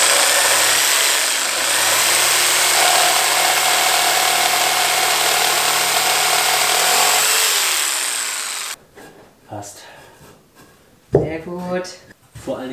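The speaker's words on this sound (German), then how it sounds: "Ich kürze jetzt den Stützen. So gut ich kann. Um 2 mm nur." A power tool grinds steadily to shorten a support post by about 2 mm on a tiny house build site, running loud and close for several seconds before cutting off, followed by someone speaking briefly.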